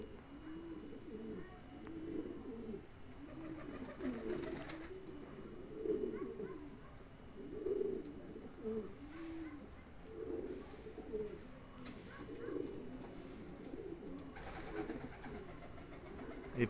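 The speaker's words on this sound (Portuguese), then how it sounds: "Olha lá mais pombo ali em cima lá, ó." Pigeons cooing while feeding on corn in a neighbourhood, repeated soft throaty coos from several birds overlapping at a steady, relaxed pace, fairly close and quiet with light background noise.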